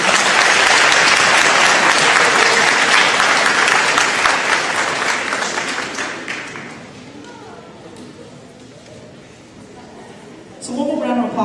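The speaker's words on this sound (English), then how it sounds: "So one more round of applause for all the middle school Goki students." Sustained applause from a school awards ceremony audience honoring middle school students, dense and loud at first, then thinning and fading out over several seconds before a voice starts speaking at the end.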